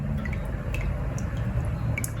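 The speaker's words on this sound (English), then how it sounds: "Drain the oil out of that as best you can into the same container." Engine oil draining from a Cub Cadet XT1 Enduro LT46 riding mower into a container, a steady low trickle with scattered faint drips, close and continuous with no voices.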